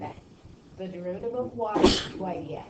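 A single sharp sneeze bursts out in a classroom during a calculus lesson, loud and close, with a teacher's voice explaining before and after it.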